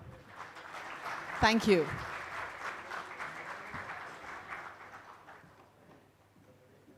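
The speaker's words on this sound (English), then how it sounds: "can we extend a louder applause?" Audience applause at a chemicals and petrochemicals summit in Gujarat, a small crowd clapping steadily for several seconds at moderate level, with a brief spoken thanks and a few louder voiced sounds near the start.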